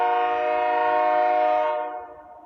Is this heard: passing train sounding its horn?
yes